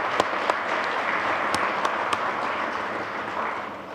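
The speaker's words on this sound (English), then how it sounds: "Let's give Matt a good hand of applause again" An audience applauds a speaker at the close of a morning talk at Manitoba Ag Days. Dense, steady clapping from a room full of people carries on throughout, with a few sharper individual claps standing out, and no one talks over it.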